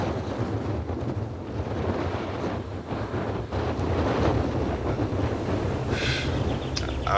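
Strong wind buffeting the microphone while cycling on a round-the-world bike ride, a continuous loud rumbling roar with gusty swells and no talking.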